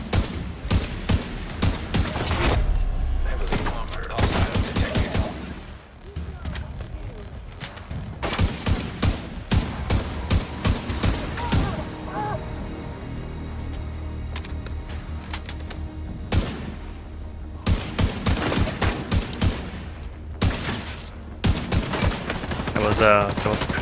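Sharp gunshots crack out in irregular bursts and single shots through a firefight in Tom Clancy's The Division 2, near and loud, with brief pauses between volleys and low rumbling booms.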